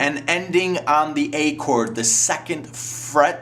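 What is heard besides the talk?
No everyday noises stand out.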